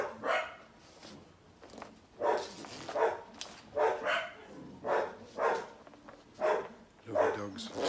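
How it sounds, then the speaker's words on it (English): Dogs bark repeatedly in a steady run of loud, close bursts, with short pauses between the barks and some background talk. "Lovely dogs."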